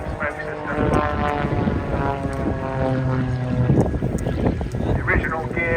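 A propeller aerobatic plane with a 6-cylinder 8.5-litre Lycoming 540 engine drones loudly with a shifting pitch, heard at an air show with a voice talking over it.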